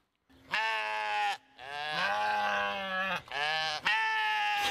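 Sheep bleating in four long, loud, close calls separated by short gaps, with no talk.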